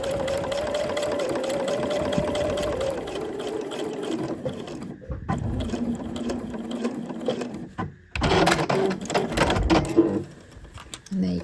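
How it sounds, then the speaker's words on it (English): A sewing machine runs top stitching along fabric for a gift wrap caddy, its motor whirring in sustained bursts with brief stops and restarts, close and loud, with fabric handling noises between runs. "there's your top stitch done all the way along the inside and outside on the other side"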